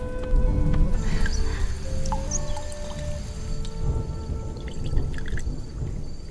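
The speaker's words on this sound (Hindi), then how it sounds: "इस बहते पानी को मरीजों की दवा बनाने के लिए जमा करना पड़ रहा है।" Water running and dripping into containers in a hospital, with scattered drips and splashes over a steady watery wash, moderately close, no talk.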